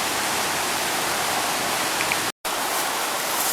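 Gorge Creek, a mountain creek, rushes in a loud, steady broadband roar close by, continuous apart from one brief dropout.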